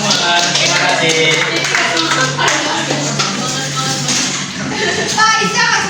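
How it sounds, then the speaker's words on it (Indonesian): Class applauding together in a classroom, a dense, loud run of clapping that goes on throughout, mixed with voices talking over it. "tepuk tangan untuk kita semua"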